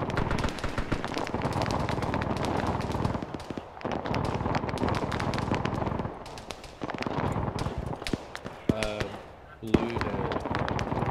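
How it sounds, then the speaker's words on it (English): Anti-aircraft gun in a Vietnam-era military shooter game firing toward a hill, heard as dense, sustained bursts of gunfire and explosions with brief lulls, loud and continuous under battlefield noise, with voices talking over it. "You see where that AA gun is shooting at the hill?"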